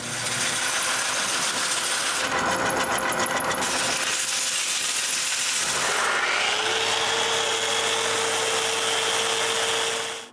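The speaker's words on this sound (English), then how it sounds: "Then I sand it a little." Sanding a wooden bandsaw part in a workshop: a few seconds of scratchy abrasive rubbing, then a motorized tool starts up and settles into a steady whine.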